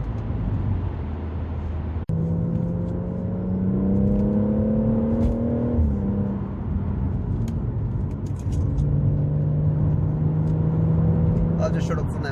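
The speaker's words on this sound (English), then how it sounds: "from where I'm sitting, the exhaust is banging, absolutely banging." A BMW M140i with an M Performance exhaust drives along, its engine note rising and falling through gear changes with a steady droning tone, heard from inside the car amid road and wind noise.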